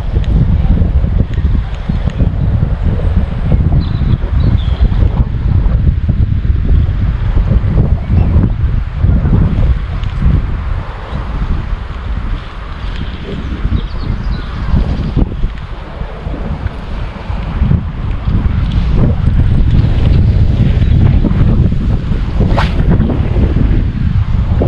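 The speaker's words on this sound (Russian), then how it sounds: "Ветер хорошо летит." Strong wind buffets the microphone in heavy, rumbling gusts that rise and fall continuously throughout, with no voices.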